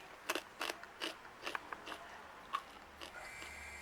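Crispy fried salted sanjai fish balado is bitten and chewed with a run of sharp, close crunches in an uneven rhythm, each bite crackling loudly before fading.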